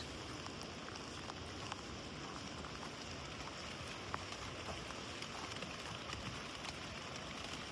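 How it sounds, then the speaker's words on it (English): Light rain sprinkling steadily around a Pacific Crest Trail camp spot between Taboose Pass and Lamarck Col, a soft, even hiss of drops with faint scattered ticks, quiet and continuous throughout. "It's not raining hard, it's just kind of sprinkling."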